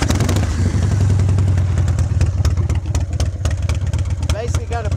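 The engine of a 1996 Harley-Davidson Wide Glide with a bottom-mounted start button catches and settles into a loud, close, lumpy V-twin idle with irregular popping beats throughout.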